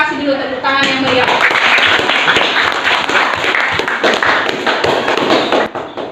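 A classroom gives a student group a round of applause, with many hands clapping in a dense, lively burst that stays loud for several seconds before thinning out, while a voice speaks briefly at the very start.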